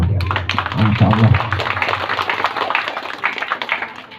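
Audience applause during an Islamic religious lecture, a dense burst of clapping that carries on for a few seconds while a voice speaks over its opening moments.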